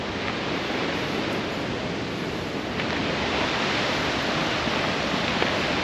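Waterfall on the Koosah and Sahalie Falls trail, a dense, constant roar of rushing water, loud and unbroken across the whole stretch, with no voices.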